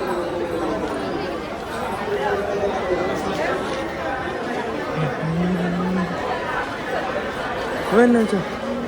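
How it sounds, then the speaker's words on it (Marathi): Dense crowd chatter outside a busy temple where devotees queue for darshan, many voices blending into a steady murmur with occasional louder calls, continuous throughout. "बाहेरच एवढी गर्दी आहे, बाबांच्या बाबाला किती गर्दी आहे."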